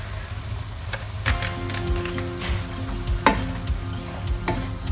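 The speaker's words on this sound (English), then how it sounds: "So mix, mix, mix." A spatula scrapes and stirs chop suey with paprika powder in a frying pan, steady sizzling under repeated scraping strokes and clacks at close range, with no voices.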